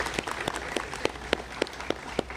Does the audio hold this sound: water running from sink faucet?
no